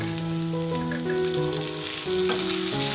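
A large chopped tomato frying with ginger garlic paste in a pan, loud steady sizzling close up with a light stir near the end, no voices.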